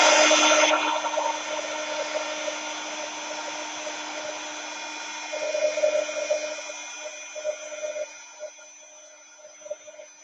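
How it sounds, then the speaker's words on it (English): Embossing heat gun blowing hot air in a craft room, a steady broadband whoosh with a faint hum that runs continuously, swelling slightly midway and easing off toward the end. "I'm going to get my heat tool out again"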